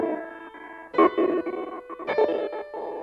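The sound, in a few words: Ableton Live beat repeat preset Robo Voice on piano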